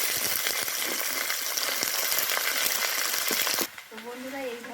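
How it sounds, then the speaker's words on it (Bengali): Fried black gram dal crackles in a hot pan with a dense, steady sizzle, then vegetables go in and the sizzle drops sharply and turns softer, with a voice speaking briefly near the end. "ডালগুলো ভেজে নিয়ে তারপর সবজিগুলো দিয়ে দেবো।"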